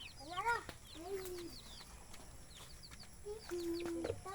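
A chicken clucks in short, faint bursts, with a few scattered squawks over a quiet farmyard background.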